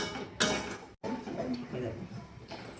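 A spoon scrapes and taps in a pan as beto shak leaf greens with turmeric are stirred, a few soft clinks and rustles with a voice speaking throughout.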